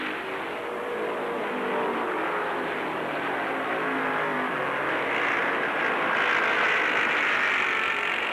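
1975 NASCAR stock cars, including a Petty Dodge and a Yarborough Chevrolet, race in a field with an AMC Matador, a steady distant engine roar that swells slightly toward the end, no voices heard.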